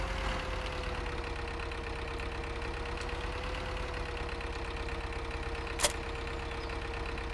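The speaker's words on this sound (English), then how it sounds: "Oh, I like the sound of this tractor." A tractor engine idles steadily in the video game Farming Simulator 2013, a low continuous drone with an unchanging hum and one brief sharp click partway through.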